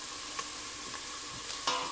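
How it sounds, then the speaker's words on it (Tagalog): Garlic sizzles steadily in a pan for arroz caldo, with a few faint scrapes of stirring at intervals over the continuous frying hiss; no talking. "halu-haluin lang para hindi masunog yung garlic"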